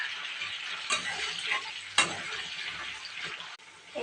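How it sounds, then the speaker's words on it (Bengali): Potatoes frying in hot oil in a wok, a steady close crackling sizzle with a few sharper clicks and stirring scrapes, no talking. "আলুটা ভেজে নেব"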